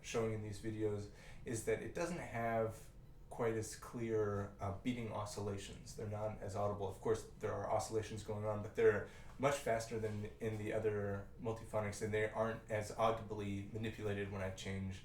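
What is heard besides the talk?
No distinct noise like a dog, phone or traffic.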